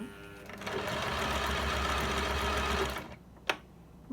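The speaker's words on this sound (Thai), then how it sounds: "เสร็จแล้วกดคันโยกค้างไว้จักจะเย็บถอยหลัง" A ZEN ZN1101 sewing machine stitches in reverse, a fast, steady mechanical whir lasting about two and a half seconds before it stops, followed by a single sharp click of a lever or fabric, close and alone.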